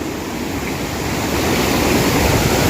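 Water flows behind a dam at Sukhuma, a steady broadband rush that grows slightly louder, heard alone without voices.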